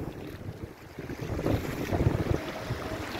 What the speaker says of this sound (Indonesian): inilah suasana tepian Danau Poso yang begitu indah.